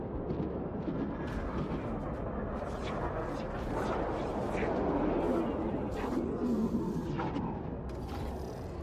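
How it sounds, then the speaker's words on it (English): Simulated point-defense turrets of the Kharak-Kushan fire on the Mothership in the space strategy game Homeworld 3, a dense, sustained rumbling barrage with crackling bursts layered throughout. "The Mothership is under simulated Point defense fire."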